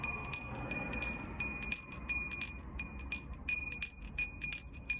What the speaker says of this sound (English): you can look at my little bell here